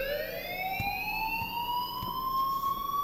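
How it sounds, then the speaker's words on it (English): Alarm in the game Life is Strange: a steady, loud electronic tone rings continuously and slowly rises in pitch, with faint periodic clicks or knocks beneath it. "please turn off that alarm since that's your job"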